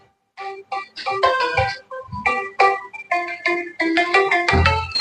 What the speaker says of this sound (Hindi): फोन आ रहा है रे